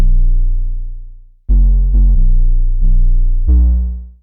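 Deep 808 bass notes in FL Studio with the attack raised slightly, giving a soft, rounded onset instead of a sharp punch, several long booming tones played alone.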